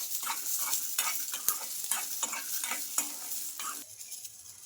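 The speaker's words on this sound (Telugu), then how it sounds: "ఇవన్నీ వేసుకొని మనకు మిర్చి పల్లీలు బాగా వేయించుకోవాలి" Peanuts and chilies frying in oil, a close sizzle broken by rhythmic scraping stirs and light metallic taps, easing off near the end.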